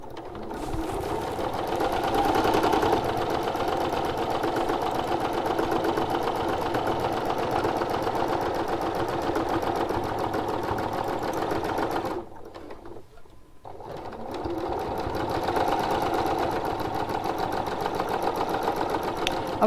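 A sewing machine doing free motion quilting with a Microtex needle and 50 weight thread runs in a steady close whirring hum, stopping briefly about two-thirds through before starting again.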